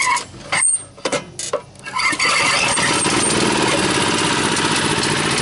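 A small Honda engine fitted with an aftermarket carburetor runs on choke, sputtering unevenly at first, then settling into a loud, steady, rapid idle close by.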